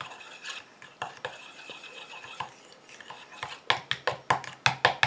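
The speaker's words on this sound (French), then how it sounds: "Et je mélange comme ça jusqu'à ce que mon émulsion" A utensil stirs a thickening cosmetic cream emulsion in a bowl, making soft scraping swirls that turn into sharper, quicker clicking strokes against the bowl, close up and with no voices.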